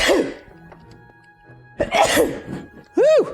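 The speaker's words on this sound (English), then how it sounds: "Man, that was a sneeze." A single loud, sharp human sneeze near the end, following a spoken exclamation and some quieter talk, close and abrupt, from a person playing modded Minecraft.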